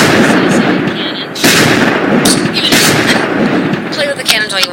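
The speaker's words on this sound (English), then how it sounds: "You can click the cannon, but only the seaside cannon." A cannon fires in a pirate-ship setting within a Gorean virtual-world sim, loud booming blasts layered with crackling, echoing reports in quick succession.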